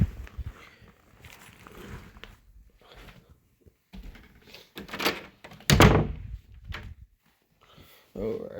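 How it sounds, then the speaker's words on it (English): A household door opens and closes indoors, a couple of thunks and a louder bang standing out amid background movement and some talking nearby. "there goes my door."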